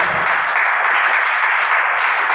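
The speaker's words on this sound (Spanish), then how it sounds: "¿Cuánto le damos un aplauso al Señor?" A church congregation applauding: dense, continuous clapping that fills the room at close range, steady and loud throughout.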